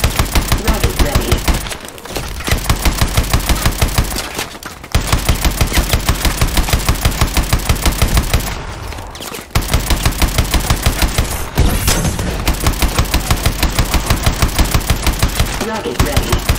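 A vehicle-mounted machine gun in Call of Duty: Advanced Warfare fires long rapid bursts, loud and relentless, pausing briefly a few times during a prison camp escape, with a synthetic voice announcing weapon status underneath.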